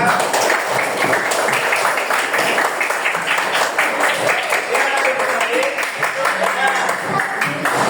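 Children in a sixth-grade physical education class clap their hands in a rapid, patterned rhythm, dense and fairly loud, with voices mixed in alongside the clapping.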